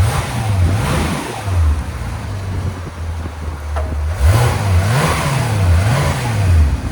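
A 2018 Porsche 911 GT3 RS 4.0L flat-six with a custom X-pipe and straight pipes revs in loud, repeated blips that rise and fall over a steady idle, heard up close.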